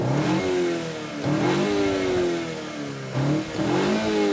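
A Cupra Formentor revved while parked: the engine climbs sharply three times, holding each high whine before dropping back, loud and close with no talking.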